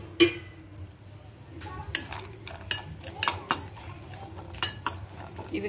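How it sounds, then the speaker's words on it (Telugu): Cashews and dry coconut fry in ghee in a pan while a metal spoon clinks and scrapes against it in scattered, sharp taps over a faint low sizzle, with soft talk in the background. "ఇప్పుడు జీడిపప్పు, ఎండు కొబ్బరి ఫ్రై చేసేసుకుందాం"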